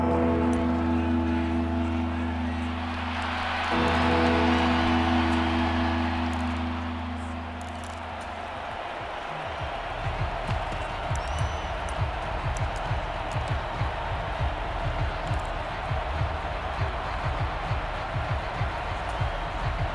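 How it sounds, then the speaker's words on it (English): A stadium crowd in the American football video game Madden 24, Eagles vs Raiders, swells into a broad roar midway, then settles to a steady background din while a low tone cuts off and a patter of faint ticks continues. "This crowd turning up the decibel level."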